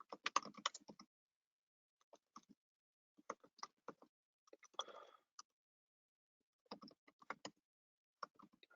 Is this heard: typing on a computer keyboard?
yes